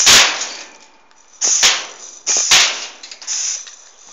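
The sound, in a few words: homemade fire extinguisher BB gun test firing at metal shed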